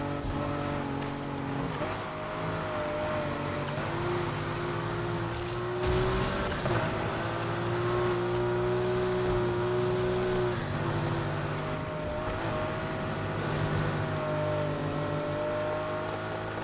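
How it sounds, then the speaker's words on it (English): A V8 engine revving hard in Need for Speed Heat, a steady loud roar with rising and falling pitch as the car accelerates and shifts gears, heard close and continuous without talk. "That is either a V6 or a V8. That sounds very V8-like."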